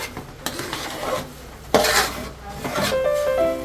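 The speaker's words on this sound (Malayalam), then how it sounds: "നെയ്യ് ഒഴിച്ചിട്ട് അത് നല്ലോണം ഒന്ന് മിക്സ് ചെയ്യാം." Semiya stirred with ghee in a pan for biryani semiya, giving a few scraping strokes and soft clinks of a spoon against the metal, close and moderately loud with a brief harder scrape midway.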